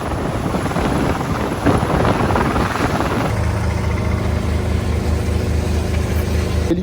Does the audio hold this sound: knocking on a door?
no